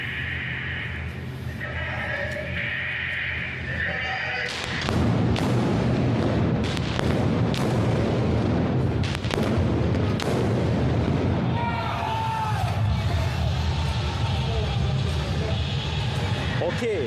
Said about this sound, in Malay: Sekejap lagi mereka akan menembak dan sama-sama kita rasai gegaran tembakan tersebut Ismail.